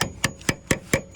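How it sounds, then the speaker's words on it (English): Insecticide plugs being hammered into holes drilled in an ash tree trunk with a setting tool, six sharp evenly spaced knocks about a quarter second apart, close and distinct. "hammer them in so they set properly"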